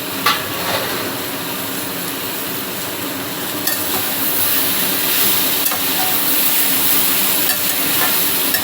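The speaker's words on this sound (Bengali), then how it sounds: "নাড়াতে নাড়াতে থাকবো।" Pumpkin, beans, carrot and fried okra curry being stirred in a hot pan: a continuous loud sizzle and hiss, with scraping stirs and a sharper clatter partway through.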